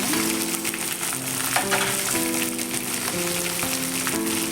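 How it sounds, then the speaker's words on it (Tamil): Brinjal and shallots sautéing in a pan, giving a steady close sizzle with soft stirring scrapes throughout, no talk. "கத்திரிக்காய் வதங்க போட்டுக்கலாம்"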